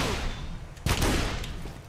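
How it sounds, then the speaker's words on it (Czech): Gunfire in the video game The Order: 1886, with one sharp, loud shot cracking near the middle and a few lighter reports trailing after it over a low background hum. "tak takhle se střílí s blokárnou"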